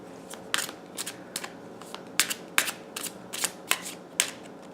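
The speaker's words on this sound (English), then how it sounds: "let me just shuffle this a few more times" A tarot card deck is shuffled by hand in a quiet room, giving a series of short, crisp riffling bursts in an irregular rhythm, close and fairly soft.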